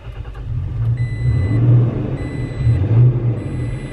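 Four-cylinder car engine revving nearby, a rough low rumble swelling twice in short bursts of throttle, heard alone outdoors.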